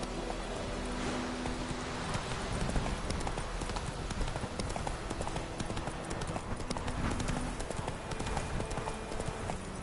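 Hooves of Geralt's horse clip-clopping at a trot in The Witcher, a steady, continuous rhythm close by over ambient game background, with no talk.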